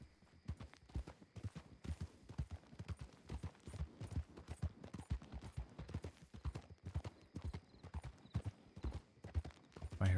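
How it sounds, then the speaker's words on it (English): Horse hooves clip-clop steadily and fairly distantly, a continuous irregular patter of hoofbeats over ground with no voices in between. "I hear another horse."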